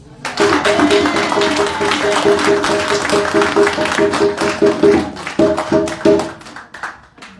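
Applause fills a church youth and children's service, dense clapping from a congregation over sustained organ or keyboard chords, swelling loud then tapering off near the end.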